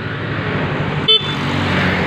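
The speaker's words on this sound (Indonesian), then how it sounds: "kita coba untuk klakson. Klakson juga menyala." A single short horn beep from a 2014 Yamaha Mio GT motor scooter cuts through steady engine and road noise, brief and close, lasting a fraction of a second.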